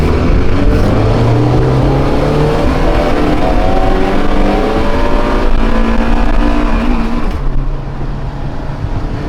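A Honda car engine revs hard at full throttle up to a raised 7,200 RPM limiter, loud and close, with rising pitch sweeps repeated over several pulls.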